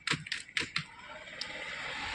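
Someone types on a computer keyboard, a few quick, close clicks at first, then one faint tap against a low background hum.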